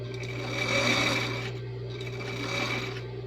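A sewing machine stitches along the strap seam of a ruffled strap dress, running steadily and close with a constant motor hum and rapid needle rhythm, swelling slightly mid-run, with no talking.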